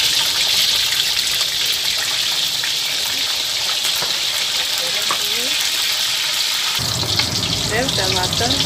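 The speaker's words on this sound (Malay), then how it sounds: "kemudian kita goreng ikannya." Steady hissing sizzle of tuna frying in hot oil in a pan, continuous and fairly loud, with faint clinks and background noise.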